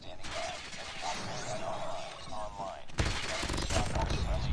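Rapid automatic gunfire from a Mac-10 submachine gun in COD Mobile, a continuous rattle that surges louder in the final stretch, mixed with game effects and faint voices underneath.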